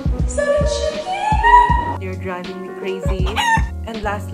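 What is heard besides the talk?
chickens clucking and rooster crowing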